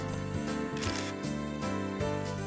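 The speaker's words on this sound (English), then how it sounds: "Just then, I heard the snap of a camera shutter." A camera shutter snap in a Higurashi visual novel scene, sounding as quick mechanical clicks over a steady layer of game background music.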